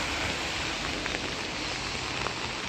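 Steady rain falls during a walk to work on a Friday, a dense continuous hiss with occasional louder drops close by, no voices.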